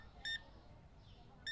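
Two short, bright checkout scanner beeps, one near the start and one at the end, sound over quiet room tone in the video game Supermarket Simulator.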